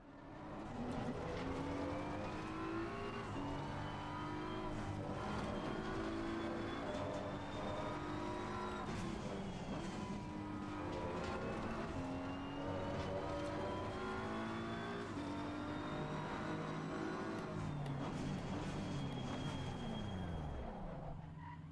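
A race car in a sim racing game accelerates hard and brakes repeatedly, engine note rising and falling in a steady loud drone with gear shifts throughout, no talking.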